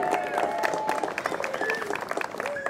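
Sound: crowd applause

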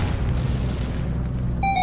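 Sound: bombs blowing up walls in The Legend of Zelda: Majora's Mask video game

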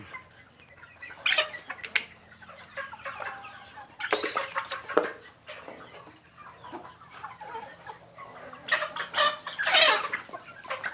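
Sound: chickens clucking, breeding roosters and hens

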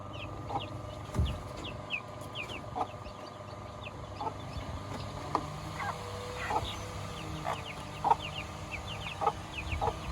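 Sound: chickens clucking and panting

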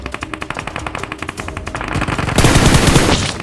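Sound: gunfire in the video game PUBG Mobile

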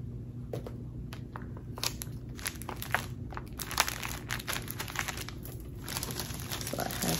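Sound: tape being handled and crinkled for a kids' gift

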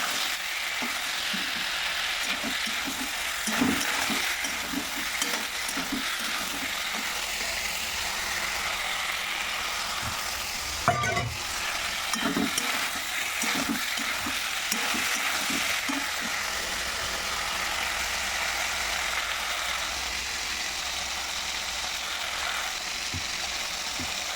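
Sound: vegetable curry with chili and ginger paste cooking in pan

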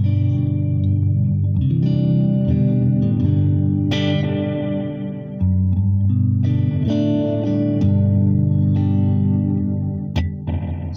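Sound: guitar through distortion boost and echo pedal

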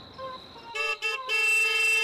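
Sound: car horn honking

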